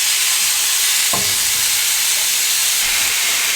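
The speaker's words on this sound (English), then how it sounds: "just going to add on all of the pork right onto the grill" Pork chops sizzling on a grill, a steady loud hiss with a soft thump as meat is laid down.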